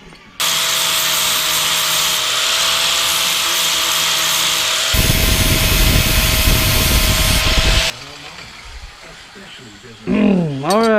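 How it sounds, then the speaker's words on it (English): A power sander grinds down welded metal parts for a 1/14-scale lowboy trailer, a loud continuous rasp that shifts pitch midway, then cuts off, followed by a brief whirring buzz. "now they're all sanded smooth"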